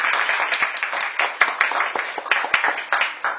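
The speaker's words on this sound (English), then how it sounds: "I would like you to give a big round of applause for both of them" Audience applause for a couple being honoured at a talk, a sustained wash of many hands clapping with dense irregular claps throughout, fairly close and loud, with no voices over it.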